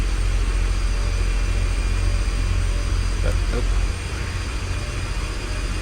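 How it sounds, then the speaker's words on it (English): Simulated turboprop engines drone steadily while a plane taxis in the X-Plane 10.5 flight simulator, a loud continuous low hum that drops slightly in level partway through, with a voice speaking briefly over it. "Turboprop. In theory, I should be able to taxi with the engines idled."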